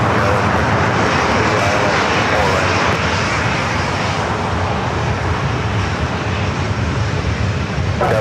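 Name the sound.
Singapore Airlines airliner taking off at LAX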